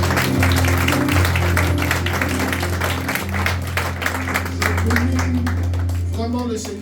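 A church congregation applauds during a service, sustained dense clapping with voices and background music underneath and a person talking over the crowd.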